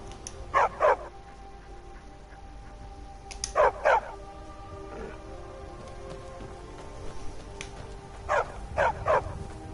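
A dog barks in the Elder Scrolls game Tamriel, three short double-bark bursts spaced across the stretch over a steady rain-like hiss, fairly close and clear.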